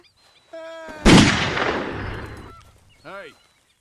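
A gunshot from the video game Red Dead Redemption II sounds as one loud, close blast that rings out and decays over about a second and a half, with game speech before it and a short voice afterward.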